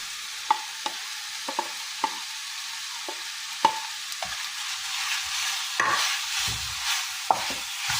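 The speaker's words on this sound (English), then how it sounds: "Add the chopped scotch bonnet and green pepper and stir" A spoon stirs diced carrots, chopped scotch bonnet and green pepper in a pan, knocking sharply against it at irregular intervals over a soft, steady sizzle, with no talking.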